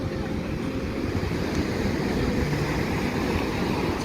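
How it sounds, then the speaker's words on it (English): Big Pacific Ocean waves break on a San Diego beach, making a constant loud roar of surf mixed with wind rush and no voices. "Pretty big waves coming in."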